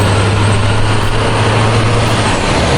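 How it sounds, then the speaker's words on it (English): A container truck drives past close by, its engine giving a loud, steady low rumble with a constant roar and no talking over it. "A brown container truck."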